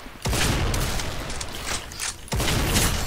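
Gunfire and booming impacts in the video game Hellreaver Arena, loud repeated bursts in several waves with brief gaps between them, no talk.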